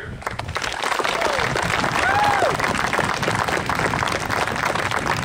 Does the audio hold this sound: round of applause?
yes